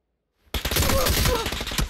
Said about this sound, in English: I just heard an SMG over here.